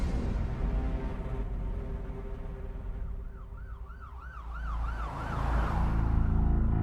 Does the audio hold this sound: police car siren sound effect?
yes